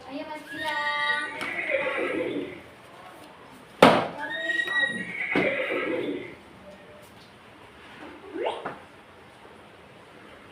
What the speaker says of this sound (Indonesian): Kuda meringkik.